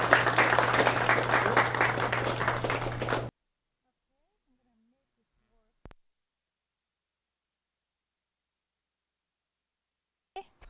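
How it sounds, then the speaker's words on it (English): Applause at a science café talk, dense clapping with a steady low hum underneath for about three seconds, then cutting off to near silence with a couple of faint, isolated knocks. "So can we have a big round of applause for Dr."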